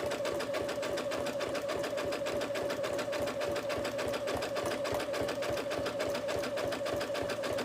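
A sewing machine stitches slowly through a thick trapunto cushion with many layers of fabric, its rapid needle chatter steady and close with a constant motor hum throughout.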